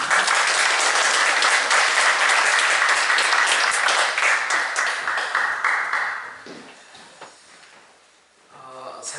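A church congregation at an afternoon worship service bursts into loud, dense applause that holds steady for several seconds, then tapers off into scattered claps and quiet room sounds.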